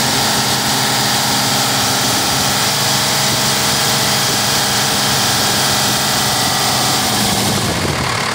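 A 1989 Dodge D250 diesel truck engine idles steadily and loudly throughout, a constant low rumble with a dense mechanical drone and no voices.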